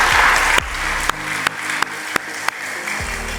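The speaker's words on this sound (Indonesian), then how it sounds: "Tepuk tangan buat sekali lagi buat para dokter mata." An audience at an eye-doctors' cancer awareness talk claps briefly. The clapping stops early and then a few separate sharp knocks or bumps follow.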